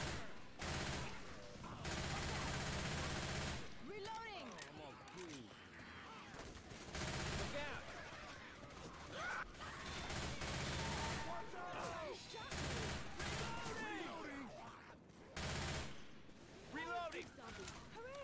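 Gunfire from the Left 4 Dead 2 video game, loud bursts of rapid shots and fusillades repeating throughout amid chaotic game noise, with players talking over it.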